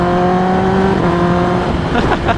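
Remapped Kawasaki ZX10R sport bike with a loud ZRT 65mm aftermarket exhaust, engine droning steadily on a downshift with a few sharp crackling pops near the end, close and loud without talk.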